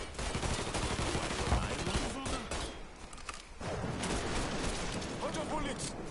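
Sustained gunfire in Mafia III, a dense rattling fusillade of rapid shots that dips briefly midway and then resumes, loud and continuous, with a voice talking over it.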